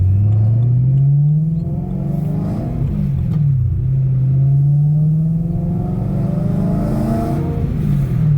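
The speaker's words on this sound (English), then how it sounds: "This is absolutely insane of a sounding exhaust" A supercharged BMW E92 M3 with a loud exhaust revs and pulls under way, a deep droning engine note that climbs, dips and rises again, close and prominent with no talking.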